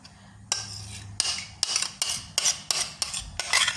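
A utensil clinks and scrapes sharply against a bowl while lemon-juice salad dressing is stirred, roughly eight distinct, fairly loud strokes in an uneven rhythm with quiet gaps between them.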